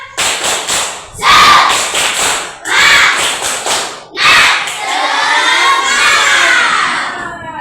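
Classroom of children doing the tepuk semangat clapping chant, rhythmic bursts of group claps separated by brief pauses, then rising into loud excited shouting and cheering voices.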